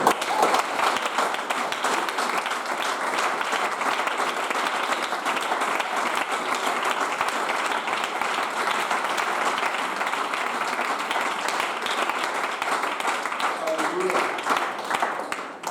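A church congregation bursts into loud, sustained applause and cheering, a dense wash of clapping that holds steady for the whole stretch with scattered shouts mixed in.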